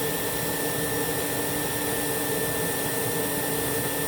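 A Rainbow E2 Silver vacuum cleaner runs continuously during an airflow test, a loud steady motor drone with a constant high whine and no pauses.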